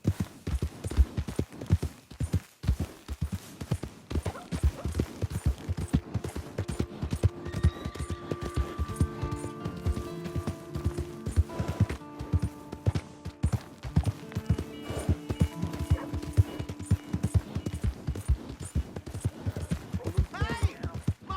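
Horse hooves clip-clop in Red Dead Redemption 2 gameplay, a steady run of rhythmic hoofbeats that lasts throughout and is joined by tonal game music and occasional other sounds.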